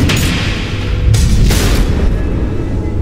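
A missile explosion in the Batman: The Enemy Within video game, a loud, heavy boom with deep rumbling and a couple of sharp bursts over three seconds.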